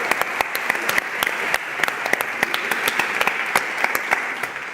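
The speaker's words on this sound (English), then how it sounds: "So, big round of applause for them." Sustained audience applause at a conference on homelessness care, a thick, even wash of many hands clapping, with sharper individual claps standing out throughout at a moderate level.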